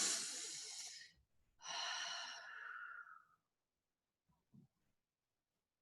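A slow, deep breath during guided meditation: a long soft inhale, a pause, then an extended airy exhale, quiet and close, followed by faint small mouth sounds.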